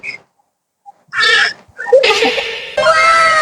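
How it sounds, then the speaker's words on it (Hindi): A cat meows several times close by, with short bursts coming from a home setting. "मोर कैट लाया हूँ मैं, बिल्ली लाया हूँ"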